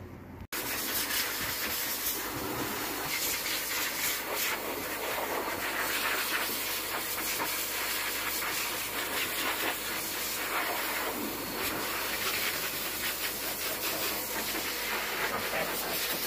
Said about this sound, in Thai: จะพาน้องไปเป่าขนกัน